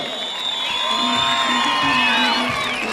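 A crowd at a municipal holiday toy giveaway for children in Çubuk, Turkey, cheers and whoops for the mayor. Lively shouting and cheering with whistle-like tones continues throughout, loud and close.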